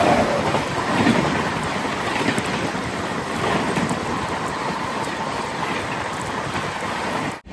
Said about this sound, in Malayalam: നാഗർകോവിൽ ചെന്നൈ എഗ്മോർ വന്ദേ ഭാരത് കടന്നു വരികയാണ്.